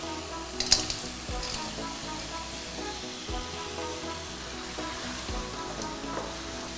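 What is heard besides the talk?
crab added to pan, sizzling while cooking crab malaikari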